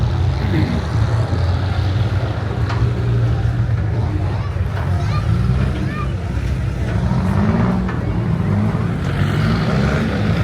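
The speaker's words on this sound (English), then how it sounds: "This dozer here's got a 351 in it." A bulldozer fitted with a 351 engine idles and runs nearby with a steady low rumble through the whole stretch, with faint voices and background noise over it.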